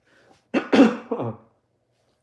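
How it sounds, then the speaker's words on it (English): A person clears their throat close up, two or three harsh rasping bursts in quick succession, then silence. "let me clear my throat"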